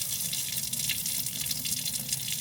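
Water gushes from an RV sink faucet, a steady close rushing stream without pause and with no voices.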